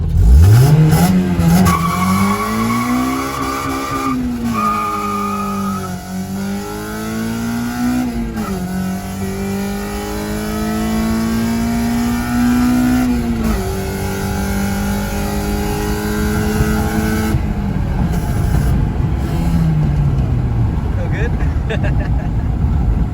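A Honda Civic with a K20Z1 engine running E85 launches hard, its engine revving up through rising gear pulls with tires squealing, loud and close throughout, with occasional voices over it.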